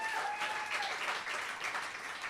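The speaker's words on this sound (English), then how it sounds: "So can we just give them all a round of applause before we begin?" Audience at a poetry night gives a steady round of moderate applause, even and continuous throughout, with a faint voice briefly audible underneath.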